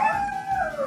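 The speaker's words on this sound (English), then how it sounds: "enjoy the dogs." A Siberian Husky and an Alaskan Malamute howl together, long wavering tones that slide slowly downward, close and fairly loud with no talking.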